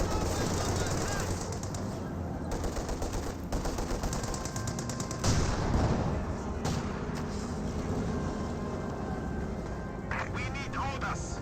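SU-76 artillery barrage in a tank battle game: dense, continuous gunfire and booming shell impacts with rapid crackling bursts, loud and close, under a commentator's voice.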